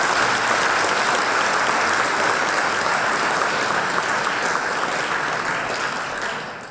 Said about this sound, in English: please give Joshua another round of applause for all the work he's done for Hong Kong.